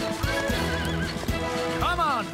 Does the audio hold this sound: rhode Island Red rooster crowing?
no